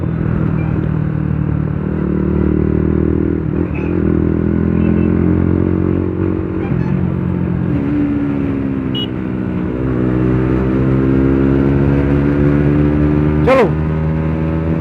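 A loud motorcycle fitted with an aftermarket Akrapovic exhaust drones continuously with a deep, throaty exhaust note, pitch rising and falling as it rides, close throughout.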